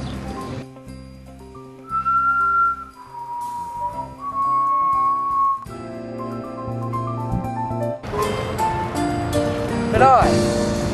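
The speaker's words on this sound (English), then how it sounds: "Do you ever have trouble getting a whistle-like sound to come out of your mouth?" Clear melodic whistling, a few sustained and gliding notes over a busy musical backing with layered tones, ending in a brighter, noisier stretch.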